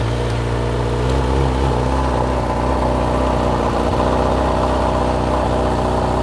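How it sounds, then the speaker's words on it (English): Honda CB1000R motorcycle with its stock exhaust idling just after a cold start, a steady, loud, low engine rumble with no revs and no talk. "let's get a sound check on this stock exhaust"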